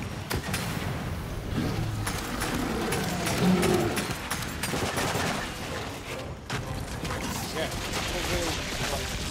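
Rapid gunfire rattles in bursts during a video game battle against an enemy carrier, dense and continuous, mixed with mechanical game sounds and shouted voices.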